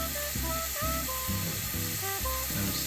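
Onion and garlic sizzle in a frying pan as a constant hiss beneath a loud melodic music track, the frying sound fairly faint under the music.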